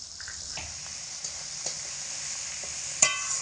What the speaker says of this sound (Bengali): এই সমস্ত কিছুকে আবার লঙ্কা আর আদাকে মোটামুটি হাফ মিনিট মতো নাড়াচাড়া করে নিয়েছি